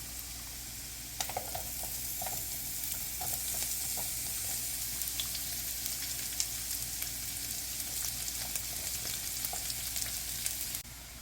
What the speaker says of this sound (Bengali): মাঝারি জালে একটু ভেজে নিচ্ছি এক মিনিট মতো